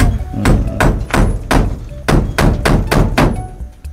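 A hammer drives nails with about nine loud, close strikes in a steady rhythm, each a heavy thud with a short ringing tail.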